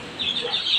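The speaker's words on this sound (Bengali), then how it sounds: "এই যে দেখতে পাচ্ছেন বাচ্চালা দেশি মুরগিটা, বৃষ্টির কারণে যা ধরে রেখেছি" Desi hen with a brood of twelve chicks in a shelter, sending up soft, close chirps and clucks in a brief continuous burst with no talk.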